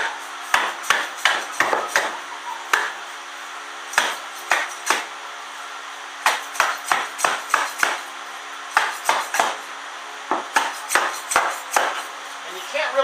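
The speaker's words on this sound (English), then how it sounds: "tap some bruises into this wood so that it's not so shiny and new looking" A hammer taps bruises into soft pine wood with quick bursts of sharp, close knocks, several strikes at a time separated by brief pauses. Faint speech sits underneath.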